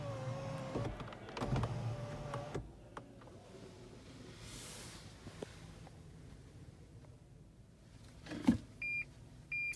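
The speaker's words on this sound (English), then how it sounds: "Or tilt the roof." On a 2020 Lexus GX460, the sunroof motor whirs briefly as the glass tilts, followed by a few faint clicks and a pair of short electronic beeps near the end.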